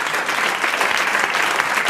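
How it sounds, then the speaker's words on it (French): Studio audience applause on a French radio-TV game show, a dense, steady wash of many hands clapping at close range, continuous for the whole stretch without a break. "On applaudit Madame Martineau de Calais"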